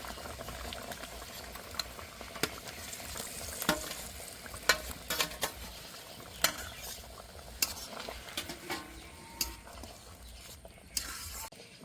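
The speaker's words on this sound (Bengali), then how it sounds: "ভেজে রাখা ঝিঙেগুলো দিয়ে দেব" Fried ridge gourd pieces added to a pan with lentil paste, a soft simmering sizzle under repeated scraping and clinking of a spatula against the pan, quiet and close, with no talking.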